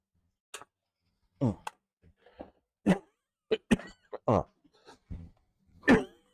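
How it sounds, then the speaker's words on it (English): A series of short, sharp coughs from someone choking on a cough drop, close and irregular, separated by brief silences, with a few throat-clearing sounds among them. "I'm coughing on a cough drop."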